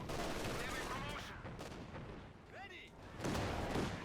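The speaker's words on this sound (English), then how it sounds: "AT guns opening fire." Anti-tank guns firing in the Company of Heroes 2 strategy game, a dense, continuous barrage of gunfire and battle noise that stays loud throughout, with whistling shell streaks midway and a heavier burst near the end, under faint commentary.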